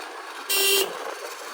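A vehicle horn sounds on a narrow, dangerous mountain road between Joshimath and Ukhimath, one short, loud honk lasting about a third of a second over a steady background hum.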